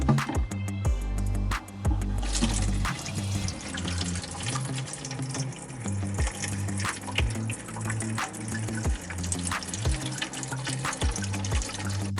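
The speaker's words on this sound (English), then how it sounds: "I'm going to show you me adding some water to it right now" Water is poured from a tap onto a compressed coconut coir brick in a tray, making a continuous, close splashing flow with small drips and gurgles, with no speech.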